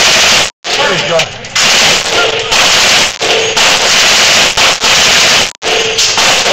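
An M249 SAW machine gun fired at an indoor gun store range: long, loud, dense bursts of rapid fire broken by brief silent pauses, with voices faintly mixed in.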